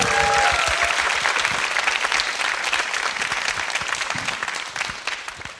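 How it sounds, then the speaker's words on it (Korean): A studio audience at a live public broadcast bursts into loud, sustained applause, with a thick, steady patter that slowly tapers toward the end. "다시 한번 큰 박수 주세요."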